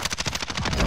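Rapid automatic gunfire in the Call of Duty: Modern Warfare video game, a tight, loud burst of evenly spaced shots lasting under a second.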